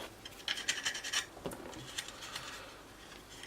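A file rasps quickly back and forth over the plastic intake seams of a Tamiya 1/32 F-16 model, in short scratchy strokes, close and fairly quiet, with a clearer pause midway.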